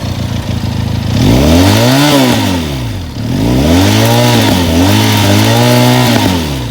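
A Benelli 500 cc cruiser motorcycle engine revs hard twice, rising and falling in pitch with a deep throbbing rumble, loud and close, with no talking.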